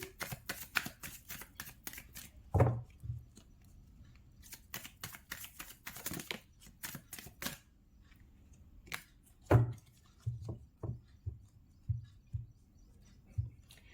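Tarot cards being handled and shuffled while another card is drawn, a run of quick crisp riffling flicks followed by scattered soft taps and slides, close and fairly quiet, with no talk.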